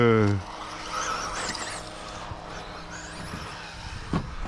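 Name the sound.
slipper clutch of an XRAY XB2 RC buggy whining on throttle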